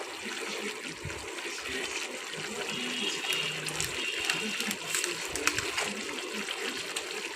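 Water poured into a pan of cooked spice paste for a tengra fish curry, a steady broadband gush and splash that runs throughout at close range with faint kitchen clatter beneath.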